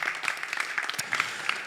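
An audience claps steadily in a conference hall at a GAMA Matrix MMA fight event, the applause soft and fairly distant, with scattered individual claps.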